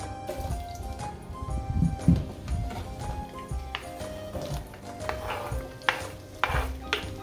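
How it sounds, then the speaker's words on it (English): Onions and then tomatoes frying in hot oil on high heat, a steady close sizzle broken by clinks and scrapes of a utensil stirring against the pan. "now that the oil is hot, we're gonna add our onions, let them be by themselves for 20 seconds, then add your tomatoes right after"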